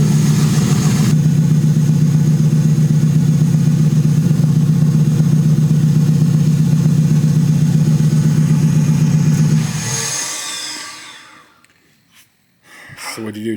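A twin-turbo 6.2 Raptor-swapped Crown Vic engine drones loud and steady at constant revs for about ten seconds, then cuts off abruptly and falls to near silence with faint clicks and a short noise at the end.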